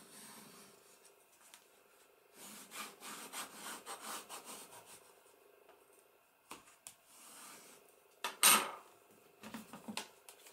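Paper burnished by hand while a spine is added to an accordion album, producing bursts of dry rubbing and scraping strokes in quick rhythm, close and fairly quiet, with a sharp scrape near the end.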